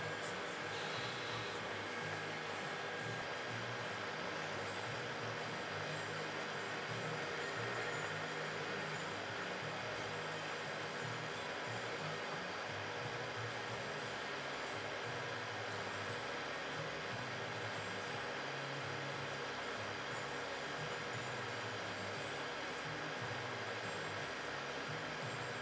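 A hot air gun blows onto the circuit board of an ICOM IC-756 ham radio during repair, a steady, even broadband rush of air that runs unbroken at moderate level the whole time.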